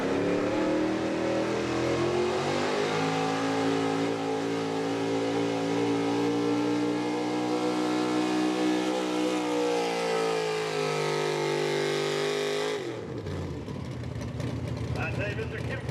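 A small block pulling truck revs hard at an outlaw truck and tractor pull, its engine note holding a long sustained high-rpm roar with rising harmonics for about twelve seconds before cutting off abruptly, followed by crowd and ambient noise.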